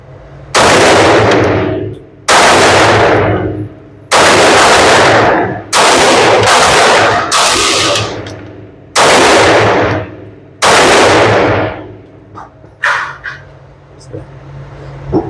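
Palmetto State Armory Rock 5.7x28 pistol emptying a magazine outdoors, about eight sharp, very loud shots spaced irregularly, each with a long ringing decay, followed by quieter handling noise.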